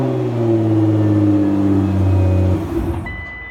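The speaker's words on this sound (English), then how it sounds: "Vehicle will start." A 2009 Nissan GT-R engine runs with a loud, steady, close rumble, then drops away sharply near the end, leaving a quieter tail.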